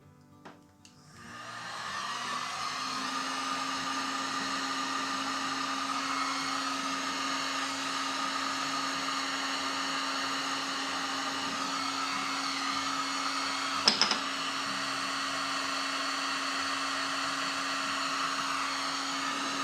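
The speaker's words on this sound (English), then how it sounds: "I've never done this with the heat gun before, so I'm not sure how it's going to work." A heat gun switches on and blows steadily to heat and seal tape, a constant whooshing whine with a faint tonal hum, alone and close, with a brief clatter midway.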